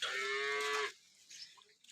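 A cow at a dairy farm lets out one loud, drawn-out moo lasting just under a second, close to the microphone, followed by quiet farmyard background.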